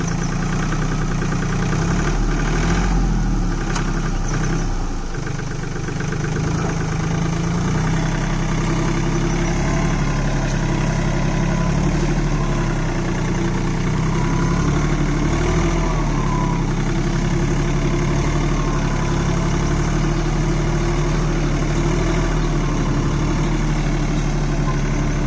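A Swaraj Target 630 mini tractor fitted with a Sakthi plus rotary tiller idles beside a field canal, its engine a steady, close, continuous rumble with no pauses throughout.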